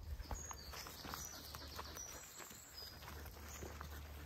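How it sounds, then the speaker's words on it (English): Birds chirp faintly in an English-style woodland camp setting, scattered high calls over a low steady hum, with soft rustling or footsteps on grass nearby. "Nice birds to listen to."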